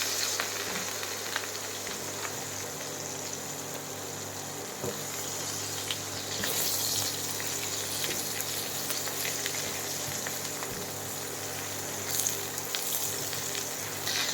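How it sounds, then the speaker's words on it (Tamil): Aubergine frying in a little oil in a pan for pickle, a steady hiss and crackle of sizzling with faint watery bubbling, continuous and moderately close, no voices. "கொஞ்சமாக நான் எண்ணெய் ஊற்றுறேன் இதை வந்து நம்ம வதக்கி எடுக்க வேண்டியதான்"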